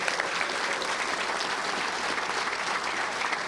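A crowd applauding at a touchdown club luncheon, dense steady clapping filling the room at even loudness throughout, with no voices on top.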